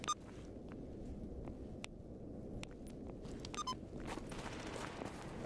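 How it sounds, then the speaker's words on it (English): Scattered sharp gunshots in the video game GAMMA crack over a steady low rumble, some single and some in quick clusters, at moderate distance. "And immediately gunshots as soon as we get in."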